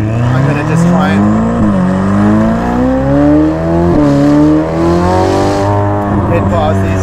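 A Ferrari 458 Speciale fitted with a Novitec exhaust accelerates hard, its loud, close, howling engine climbing in pitch through several gear changes with brief dips between shifts; someone talks over it.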